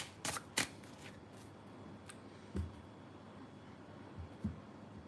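Tarot cards are shuffled up close, with two quick riffling bursts at the start followed by a few softer, scattered taps and flicks in a quiet room.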